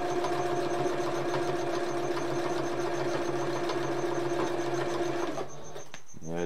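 A sewing machine stitching a custom surfboard bag runs in a loud, continuous mechanical whir for several seconds, then slows and stops with a few final clicks near the end; no one speaks.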